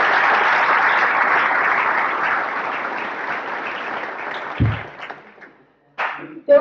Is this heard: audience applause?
yes